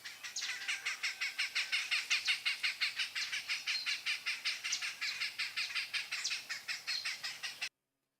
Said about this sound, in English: that's a Rufus-named wren